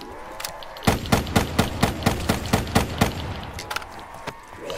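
Burst of about ten evenly spaced, close, loud gunshots in Call of Duty: Black Ops 3 Zombies, followed by a few fainter scattered shots.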